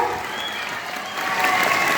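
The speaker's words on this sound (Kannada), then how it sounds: "ಸೊ ಎಲ್ಲರೂ ದೊಡ್ಡಾದ ಚಪ್ಪಾಳೆ ನಮ್ಮ BO ಸರ್ಗೆ ಹಾಕ್ಬೇಕು" An audience at a school event claps for a block education officer, a steady, dense round of applause from a crowd that swells slightly toward the end.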